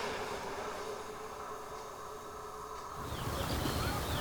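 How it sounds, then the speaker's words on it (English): A train rumbles past at a distance beside farmland near Burscough, a steady broadband roar that swells louder toward the end, with faint insect-like buzzing above it. "Trains going past, heading in the direction of Southport."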